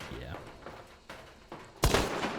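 A single loud, sharp gunshot from a Mosin rifle in the game Hunt: Showdown cracks near the end, preceded by quieter in-game ambience and movement noises.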